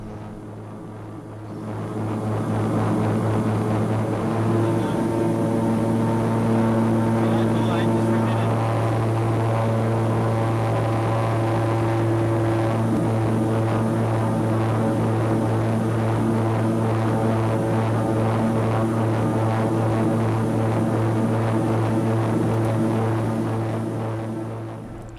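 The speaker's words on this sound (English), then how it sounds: "increase engine power to bring the propellers up to governing speed, per the aircraft maintenance manual requirement" Twin PT6A turboprop engines on a King Air B350 hold steady at propeller governing speed, about 1700 RPM, a loud sustained drone with strong steady tonal hum and broadband roar from start to finish, with no talk.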